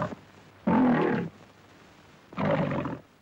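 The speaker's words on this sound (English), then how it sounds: "The MGM Lion records its roar for the talkies." The MGM lion gives two loud, close roars, each under a second long, with a short quiet gap between them and no other sound.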